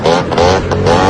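A motorcycle speeds past on a city street, its engine note a close, loud whine that rises and falls in pitch over about a second.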